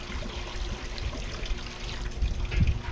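About a gallon of water laden with fish solids, collected from an aquaponics filter at an off-grid greenhouse, is poured into a container, giving a steady splashing trickle that swells louder toward the end.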